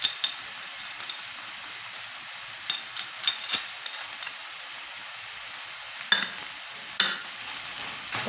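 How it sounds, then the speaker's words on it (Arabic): A spoon stirring a spice mix of paprika, cumin, garlic powder and harissa, with a few soft scrapes and clinks against the pan over a faint background hiss, no voices. "غادي نحاول اني نخلط كلشي يندمج ليا مزيان"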